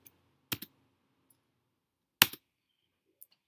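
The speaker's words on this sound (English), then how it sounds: "So now when I press spacebar." Computer keyboard spacebar pressed a few times, sharp isolated plastic clicks, two pronounced double taps separated by quiet, plus a few fainter ticks, close and dry with no voices.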